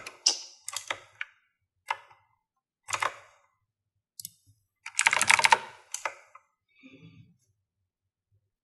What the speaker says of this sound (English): you're gonna hear some really explosive typing soon